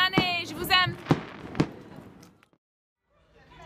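Christmas fireworks go off in Guatemala among volcanoes and mountains, with three sharp bangs in quick succession over a voice, then near silence.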